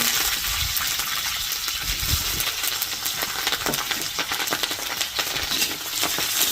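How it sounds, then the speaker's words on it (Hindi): Mustard seeds crackle and pop in hot oil, a dense, bright sizzling with scattered sharp snaps running steadily throughout, close and fairly loud with no talking. "तेल गरम आ गया, इसके अंदर पहले हम सरसों डाल देते हैं। सरसों चटकने लग गई है"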